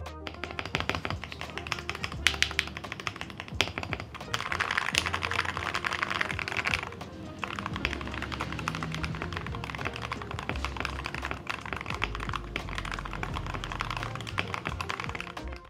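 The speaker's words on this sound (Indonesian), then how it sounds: "kalau kalian pengen dengerin typing test-nya kurang lebih kayak gini" Rapid clacky keystrokes on a mechanical keyboard, a steady run of close taps with occasional louder bursts, no talking.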